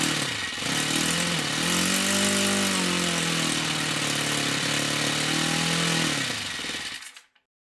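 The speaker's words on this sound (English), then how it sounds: "I used the electric starter that also plugs into the power panel to rotate the engine to make it go" Electric starter, plugged into a 12-volt portable power panel, spins a small model engine without its glow plug connected, a loud steady whirring whine with a rising and falling pitch for about six seconds before stopping abruptly, no voices.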